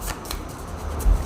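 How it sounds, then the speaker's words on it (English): Tarot cards being shuffled by hand, a soft continuous riffling with a few brisk flicks, close and fairly quiet, with no talking. "Oh wow, pile one got these two cards too, and I'm shuffling."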